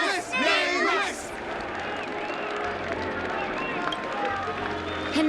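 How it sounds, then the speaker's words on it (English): Crowd cheering and applause in a video game, a steady wash of many voices and claps with chanting voices at the start, staying loud throughout. "Let us gift our applause and cheers to these brave and dauntless nameless."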